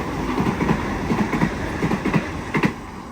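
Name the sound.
4-car Oscar Newcastle train passing platform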